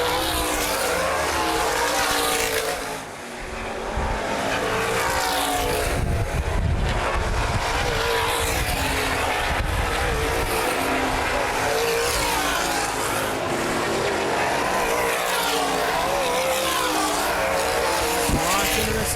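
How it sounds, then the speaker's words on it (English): Loud, continuous roar of sprint race car engines on the track at Baer Field Speedway, rising and falling as cars pass, with a brief dip early on. "The remaining race cars on track."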